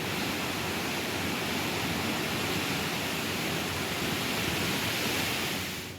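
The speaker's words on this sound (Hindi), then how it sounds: "इतना पानी और इस पानी का शोर इतना खतरनाक कि किसी के भी कान के पर्दे फाड़ दे" Water released from the Bhima dam in flood roars as a dense, continuous wall of hissing, rushing noise, loud and unbroken until it fades slightly at the very end.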